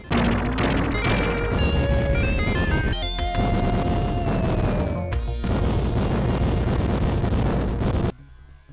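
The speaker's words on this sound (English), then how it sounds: "or just generic explosions" Retro sound effects from The Terminator on Sega Genesis/Mega Drive play loudly: rising and falling synth tones and noisy explosion bursts, cutting off abruptly near the end.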